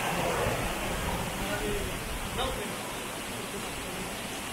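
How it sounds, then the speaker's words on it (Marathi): Steady broadband rush of a waterfall in the Konkan countryside near Salshi village, Devgad, Sindhudurg, a continuous hiss filling the scene at constant loudness with no break. "इकडे पण त्याच्यापैकी एक धबधबा."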